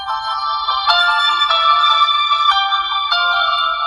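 Ringtone from an Xmobile F6 Plus four-SIM phone plays loudly and alone, a bright electronic melody of clean tones stepping through short repeating phrases.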